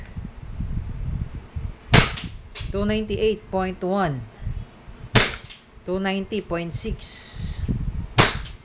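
E&C airsoft Glock 19 Gen 5 pistol fires three sharp, loud cracks about three seconds apart, each standing out clearly while someone speaks between the shots.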